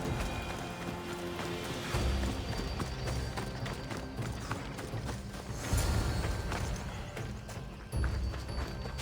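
Horse hooves clip-clopping in the game Assassin's Creed Odyssey, a steady trotting rhythm with creaking tack and occasional heavier thumps, close and fairly loud, with a brief whinny possible amid the movement.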